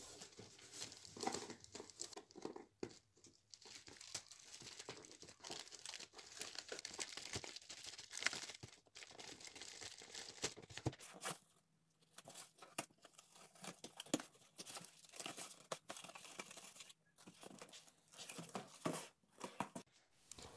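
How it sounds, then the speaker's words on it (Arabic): Packaging of a magnetic window cleaner being opened, with close, quiet crinkling, rustling and tearing of cardboard and plastic in irregular bursts over about twenty seconds, with no speech. "رح افتحها من هذا الجنب مشان الفاتورة ما تنشأ"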